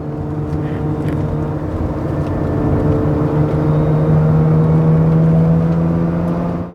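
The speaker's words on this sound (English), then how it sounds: "it's just the exhaust on this one's a little bit louder, but it's not drony at all, and it just kind of has this nice little burbly sound to it" A modified exhaust on a 1993 Mazda RX-7 FD rotary sports car hums with a low, steady burble that builds slightly as it accelerates. The sound runs continuously, with a rising engine tone in the middle and no talking.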